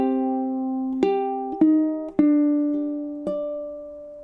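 Ukulele chord melody from the Japanese folk song Sakura, measure 10, played alone: sustained strummed chords with a few sharp plucked attacks about every half second, close and clear.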